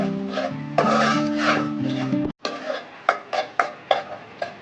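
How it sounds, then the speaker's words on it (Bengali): Egg fried with spices and green chillies in a pan is stirred in a steady run of sharp scraping strokes, loud and close, after a stretch of sizzling with a brief pause between. "এখন আমি ডিমটাকে ভালো মতো কষিয়ে নেব"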